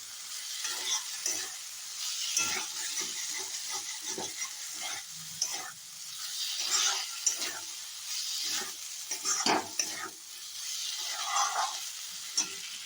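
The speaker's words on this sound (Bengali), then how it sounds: "দেখুন আমি এটা কষতে দিয়ে দিয়েছি এটা আপনাকে একটু সময় দিয়ে কষতে হবে" Tomato and spice masala sautéing in a pan for a Bengali fish-roe fritter curry, with a steady close sizzle and frying hiss broken by repeated scrapes and stirs of the spoon against the pan, no voices.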